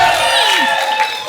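A studio audience on the Kapil Sharma comedy show cheers and applauds a celebrity guest's entrance: a loud, dense, continuous wash of clapping and whoops, with music underneath.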